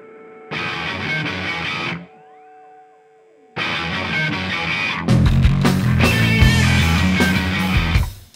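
Heavy, distorted electric guitar through a DOD FX25B envelope filter and OC2 octave pedal, with a thick, sub-octave low end and sweeping filtered tone, played in loud bursts with a brief quieter sustained chord between.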